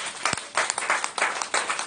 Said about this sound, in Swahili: Hebu tumpigie Bwana makofi makubwa.